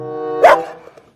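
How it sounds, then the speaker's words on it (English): A dog gives one short, loud bark, preceded by a steady humming tone and followed by a couple of faint, quick sounds. "look, dog."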